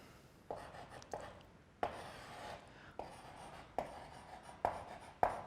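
Pen writing notes during a Class 12 physics lesson on nuclei: close, soft scratchy strokes in short bursts, each starting with a small tap, with brief pauses between.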